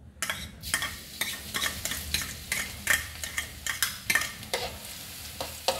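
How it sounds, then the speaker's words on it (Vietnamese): Minced garlic fries in hot cooking oil in a pan, a steady sizzle broken by repeated sharp scrapes and clicks as it is stirred, loud and close throughout. "Khi dầu ăn sôi á, Út cho tỏi băm vào nha cả nhà"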